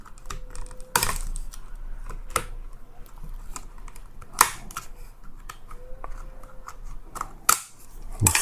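Plastic casing being pried and snapped off a YI car dash camera during disassembly, heard as a few sharp close clicks and cracks separated by quieter handling and scraping, with no talking.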